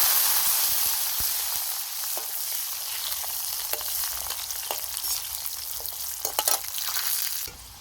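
Garlic frying in a pan of oil with fennel seeds and a piece of cinnamon for Kongu-style sambar, a steady close sizzle with scattered pops and stirring clicks throughout.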